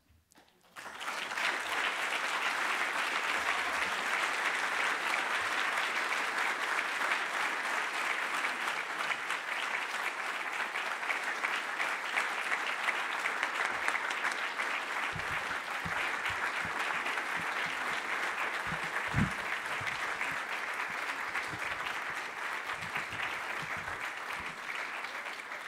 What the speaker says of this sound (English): Please give a warm round of applause once again for Dr. Moore